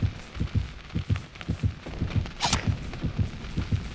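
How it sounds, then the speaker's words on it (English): Dead by Daylight terror radius heartbeat, a steady rhythmic double thump about twice per second, low and pulsing, with a brief brighter noise midway. "If my heartbeat rings in my ear as the killer is close."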